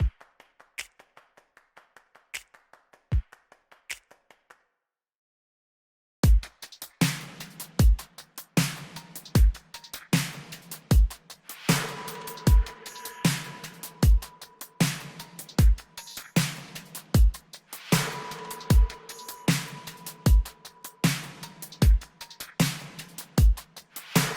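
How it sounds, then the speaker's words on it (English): A programmed pop drum groove with kick drums, snares and percussion: a few sparse taps, a brief silence, then a steady, punchy beat with regular kicks and bright snare and clap hits, loud and alone with no voices. "a drum groove that sounds a bit like this"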